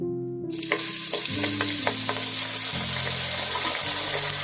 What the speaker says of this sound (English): Okay, my oil's hot. I'm going to turn it down a little bit. I'm going to take my eggplant and put it in.